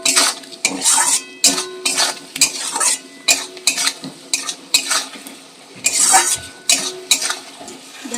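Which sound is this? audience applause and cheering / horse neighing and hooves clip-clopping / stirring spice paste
stirring spice paste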